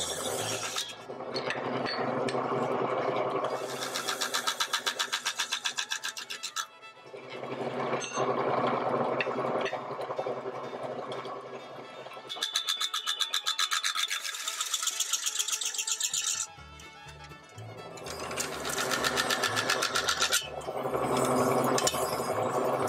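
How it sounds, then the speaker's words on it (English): A metal lathe turning a brass part slowly at around 460 RPM for a Paris hansom cab lamp, a steady gritty scraping and rubbing with bright metallic ringing, loud and close in long bursts separated by short pauses, with no voices. "I've cut the speed of the lathe back to about 460 RPM."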